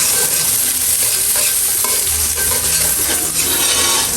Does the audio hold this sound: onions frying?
yes